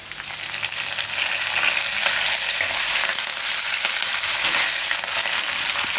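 Curry leaves dropped into hot oil in a pan for a Gujarati bottle gourd curry, giving a loud, steady crackling sizzle that holds without a break, close up and with no talking.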